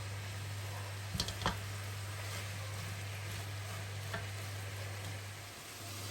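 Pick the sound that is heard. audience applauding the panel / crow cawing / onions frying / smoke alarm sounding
onions frying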